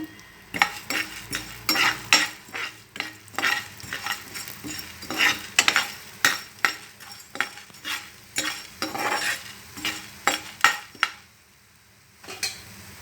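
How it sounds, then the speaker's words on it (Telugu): Coriander seeds, black pepper and cloves dry roasting in a pan, stirred with close, repeated scraping and rattling strokes in an uneven rhythm, with a brief quiet pause near the end and no talking. "మిరియాలు రెండు లవంగాలు వేసానండి తర్వాత ధనియాలు వేసుకొని వేయించుకుందాం"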